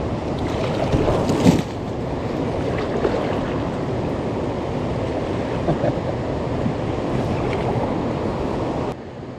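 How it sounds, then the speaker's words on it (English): Calm, peaceful water on the Kalani River while rafting, a steady broad wash with wind buffeting the microphone and a few faint knocks, continuous throughout. "Nice, calm, peaceful Kalani River"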